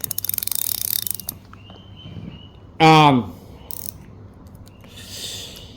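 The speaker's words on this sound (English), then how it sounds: "that's the sound of your drag for your egg beater" Spinning fishing reel drag ratcheting in quick clicking bursts at the start and again later, close and loud, with a short voice-like tone in between and faint birds in the background.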